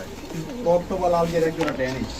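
Close, loud cooing of Danish pigeons, several throaty rolling calls in a row with a person talking faintly at the same time.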